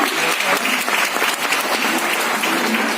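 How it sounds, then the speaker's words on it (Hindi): Crowd applause at a network marketing celebration event in India, a dense, continuous wash of clapping from a large audience across the short stretch. "एक बार परवीन चैन जी के लिए, परवीन चैन जी के लिए दिल से तालियां बजा देना।"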